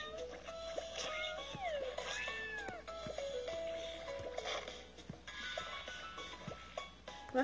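Cartoonish kitten meows from the Cat Evolution video game, several rising and falling mews overlapping against soft game background tones and clicks, fairly quiet throughout.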